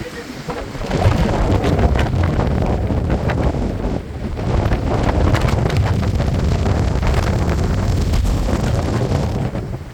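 Strong wind, rising suddenly from about 10 to 40 knots, buffets a sailboat under full sail at sea. It makes a loud, constant roaring rumble with a brief dip partway through, close and dominating the microphone.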